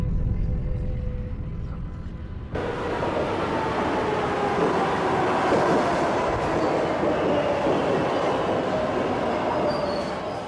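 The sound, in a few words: New York subway M train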